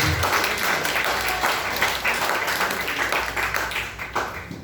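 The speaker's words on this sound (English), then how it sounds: "One big round of applause to the speaker today." A seminar audience on inner engineering and real happiness claps for the speaker in a steady, dense burst of applause that carries evenly throughout, with no voices over it.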